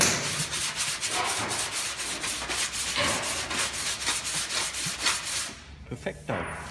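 A fine body file dressing an oxy-acetylene weld on the steel body panel of a TA22 Celica, rapid rhythmic rasping strokes up close, steady and continuous before tapering off near the end.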